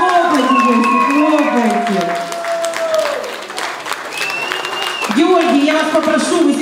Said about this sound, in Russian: Хлопайте, хлопайте